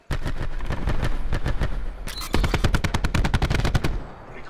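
An Ajax nine-bang grenade detonates in Black Ops 4, a multiplayer video game. It sets off a rapid string of loud, sharp bangs that repeat for about four seconds amid in-game gunfire.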